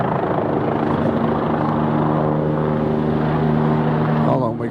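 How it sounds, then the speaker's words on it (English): A helicopter's rotor thumps and drones loudly and steadily overhead in central London, a continuous pulsing roar that stays strong before fading slightly at the end. "hold on, we got a helicopter."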